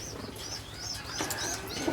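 Giribaj pigeons of the Teddy Kamagar Kaldom type cooing close by in a loft, with soft repeated coos, light chirps and faint rustling movement throughout.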